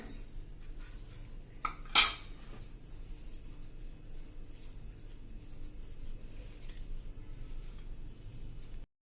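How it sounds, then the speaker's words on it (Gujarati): A spoon mixes spices with lemon juice and oil in a bowl, making faint soft scraping and one sharper clink against the bowl in a quiet room. "હવે આ બધા મસાલા આપણે મિક્સ કરી લેશું।"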